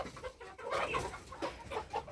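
Several Faverolles chickens cluck and murmur nearby in short, uneven bursts, a low busy chatter from the flock.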